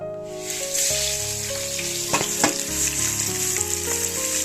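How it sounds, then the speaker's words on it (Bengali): Fish rubbed with salt and turmeric fries in hot oil with a loud, steady close sizzle and a couple of sharp spattering pops partway through, without any talk. "তো আমার মাছগুলো লবণ আর হলুদ মাখিয়ে নিয়েছি আমি এবারে তেলে দিয়ে দেব"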